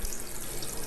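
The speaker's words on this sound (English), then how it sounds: "Run water at all the fixtures, including the toilets and bidets, and the tub and shower." Steady hiss of water running from tap and shower fixtures in a house in Lisbon, Portugal, a continuous moderate wash with no talk.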